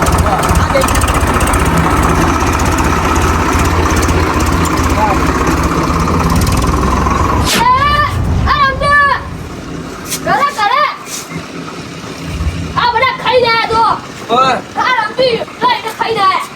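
A tractor engine chugs steadily at close range for the first half, then fades as several people talk over quieter background rumble.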